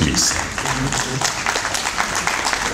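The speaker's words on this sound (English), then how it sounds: "A special round of applause to our guests" Audience applause at a forestry and agriculture opening ceremony, a dense steady roar of clapping throughout, with a voice speaking briefly over it.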